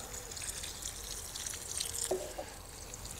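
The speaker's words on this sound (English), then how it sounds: "what we really want to do is to just fill these with water" Water trickles and splashes into seed drills in a vegetable garden bed, a steady close pour with a few brighter drips and splashes, no talk.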